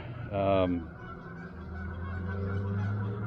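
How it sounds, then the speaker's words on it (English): A flock of geese flying off a lake in the evening honks briefly in a quick burst, fairly close, then gives way to a low steady hum. "here comes the nightly geese flock coming off the lake"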